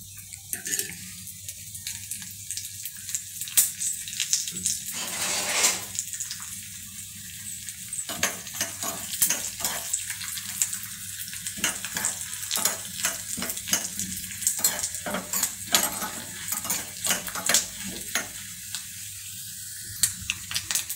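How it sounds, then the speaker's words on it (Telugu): Curry leaves and green chillies sizzle and crackle in about two spoons of hot oil for a tempering, a steady close frying hiss broken by quick popping bursts and occasional stirring. "ఇప్పుడు ఇందులోనే కరివేపాకును పచ్చిమిరపకాయ కూడా వేసి వేయించుకోవాలి."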